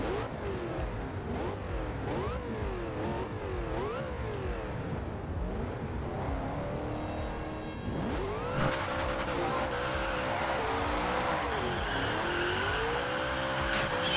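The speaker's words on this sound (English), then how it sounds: "let's just hear the engine." A revving car engine with repeated tire squeals and skids in Forza Horizon 2, loud and continuous, rising and falling in pitch.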